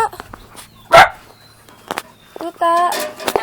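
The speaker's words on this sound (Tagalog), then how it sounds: "Meron kami dyan mga tuta." Puppies at a rural bahay kubo nipa hut give sharp, close barks and yips in scattered bursts, mixed with a person talking nearby.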